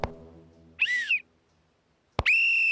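A whistle blows twice with no voice: first a short, warbling toot, then after a pause a loud, sustained shrill blast.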